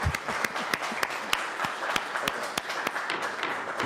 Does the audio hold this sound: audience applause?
yes